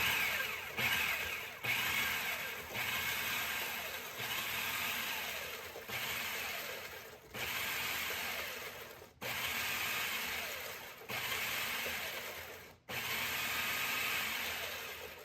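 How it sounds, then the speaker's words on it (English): A stand mixer whirs as it works sugar for cake batter. It runs in a series of loud, steady mechanical bursts, each broken by a brief pause or sharp stop, close by with no talking. "This is my first time using the stand mixer on this"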